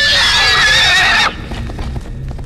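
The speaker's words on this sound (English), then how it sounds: "is that a horse?" A horse in a realistic horror video game lets out a loud, close whinny lasting about a second, then fades into quieter rustling and faint thumps.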